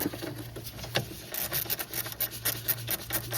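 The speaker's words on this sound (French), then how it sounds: "D'abord on enlève cette petite écrou de 10" A small 10 mm nut being loosened with a hand tool in a car engine bay during glow-plug replacement; close, irregular scraping and rasping with light metallic clicks, no talking.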